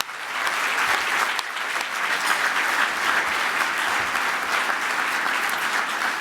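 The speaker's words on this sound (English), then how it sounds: "So let's give that a round of applause." Steady applause from an audience at an awards luncheon for Seattle Fire, filling the room with dense, even clapping that starts quickly and holds at a constant level throughout.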